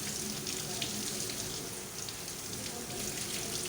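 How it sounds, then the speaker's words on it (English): Food ingredients being rinsed under running water, a continuous splashing hiss that stays steady and close throughout. "I'll rinse it out."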